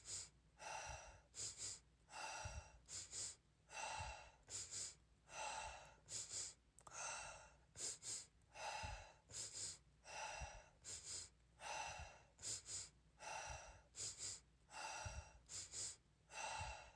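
Slow, deliberate breathing exercise: repeated two-part inhales followed by long sighing exhales, close and clear, in a steady cycle of about a dozen breaths with no talking.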